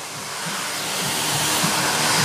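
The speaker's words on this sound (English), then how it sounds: "for once there's a blow dryer that works" An eco-friendly salon blow dryer runs steadily, a close, loud broadband whoosh of airflow that swells slightly over its short span with no talk.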